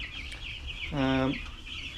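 Chickens cluck in a farm brooder, one clear, close, rising-and-falling call in the middle of a steady low background hum.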